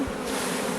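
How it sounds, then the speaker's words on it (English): Close, continuous buzzing of calm honeybees around an open hive, a steady drone like many bees humming together without sharp changes. "This sound of these bees right now, they are not agitated."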